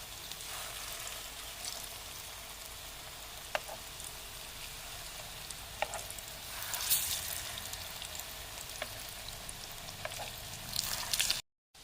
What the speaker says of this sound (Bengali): এখন আমি এগুলোকে ভেজে নেব।